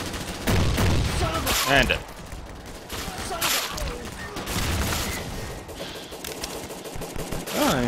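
Rapid gunfire from BrainBread 2 on the Arena RoofTop map, loud bursts of shots and booms in quick succession, with someone talking over the action.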